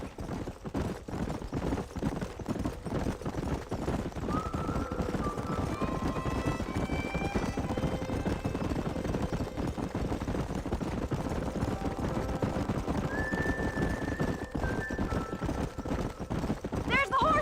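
Horses in Red Dead Redemption gallop in a steady, continuous pounding of hooves, with a few whinnies rising above the running through the middle and later stretch, and voices occasionally heard.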